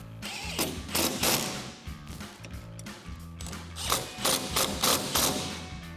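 A hand ratchet clicks as it tightens bolts on a Jeep Wrangler JK tire carrier hinge, with bursts of rapid close-up ratcheting separated by short pauses and a few soft thumps, heard alone.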